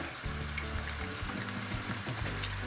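Cheese doughnuts (pampushky) fry in a well-used old pan, already browned on one side, giving a steady close sizzle and bubbling of hot oil throughout, with no talking.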